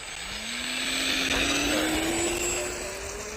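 A Fun Cub 1100mm kit RC airplane takes off on its maiden flight in little to no wind, its electric motor whining steadily with a rising pitch as it climbs, loud and continuous throughout.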